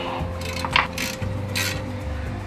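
Ratchet wrench working on the spindle bolts of a 1997 Land Cruiser floating-axle front hub, with short bursts of clicking and metallic rubbing at close range over a steady low background hum.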